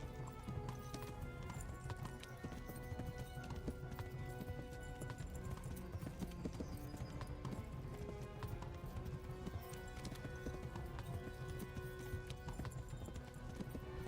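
Galloping horse hooves in a video game, a fast, steady clip-clop rhythm running continuously, faint and even in level.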